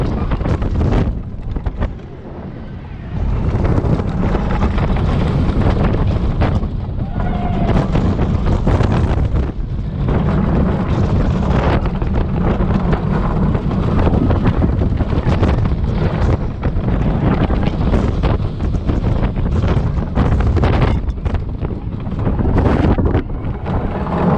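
Riding onboard the Icon roller coaster at Blackpool Pleasure Beach, loud rushing wind buffets a close microphone through the whole run, with a short lull near the start and a low rumbling rattle beneath.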